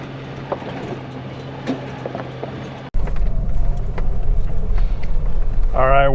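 Quad ATV riding over rough ground toward pavement, a rumbling engine with rattling and bouncing noise; a cut midway brings a louder, heavier drone, with a voice briefly speaking over it.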